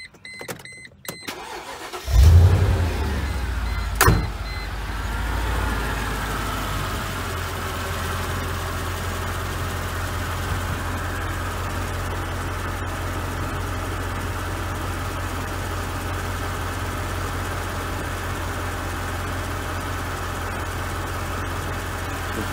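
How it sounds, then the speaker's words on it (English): A Mercedes G-wagon engine cranks and catches after a brief whir, with a sharp start burst, then settles into a steady, low, continuous idle rumble that runs close and alone to the end. "Now let's start the car and see what the actual voltage is from the alternator."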